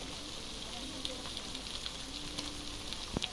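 Ginger and shallot paste frying in hot oil for a Telugu chicken curry, a continuous close crackling sizzle with small pops and one brief clunk of a utensil toward the end.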